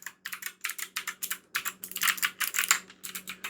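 Steady typing on an EVGA computer keyboard, with quick clustered keystrokes in short bursts and brief pauses between them, close and fairly quiet, with no talking.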